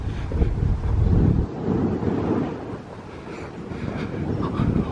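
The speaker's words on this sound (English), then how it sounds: "Wind's blowing a good one now through the tunnel." Strong wind blowing through an old tunnel at a castle site, a heavy, continuous low rumbling roar with gusty swells buffeting the microphone, close and loud, with no talking.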